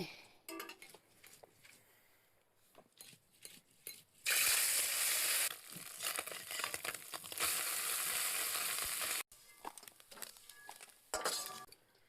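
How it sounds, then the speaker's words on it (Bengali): Small chuno fish drop into hot mustard oil in a wok and set off a loud, sustained sizzle lasting several seconds, with clinks and scraping of utensils before and after. "মাছ ভাজার জন্য কড়াইয়ের মধ্যে সরষের তেল দিয়ে দিলাম"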